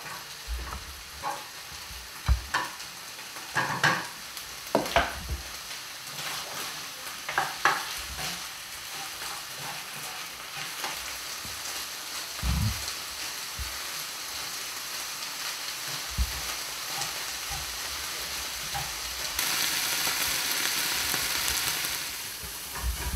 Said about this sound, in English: just sort of frying your cauliflower rice off to give it a little bit of colour